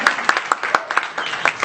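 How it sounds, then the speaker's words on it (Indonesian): A church congregation gives a short burst of applause, distinct claps landing in a quick, even rhythm, fairly close and moderately loud. "Ya beri tepuk tangan dulu."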